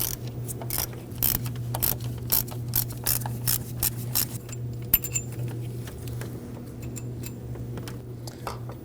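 A ratchet loosens the high-pressure fuel pump bolts on a 2015-2024 Ford Edge 2.0L four-cylinder, giving a long run of quick, close metallic clicks in uneven bursts over a steady low hum.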